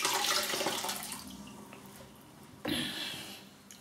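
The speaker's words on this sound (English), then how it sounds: "Let's wet the face." Water splashes and runs in a bathroom sink as a face is wetted before shaving, with a louder burst near the start and another surge late on, fairly close and without talk.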